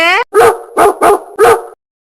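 A voice imitates a dog, giving four short, loud barking yaps in quick succession after a brief higher call, close to the listener.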